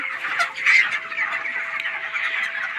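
Broiler chickens on a poultry farm cluck and squawk steadily as a flock, a busy chorus of close calls with no voices over it.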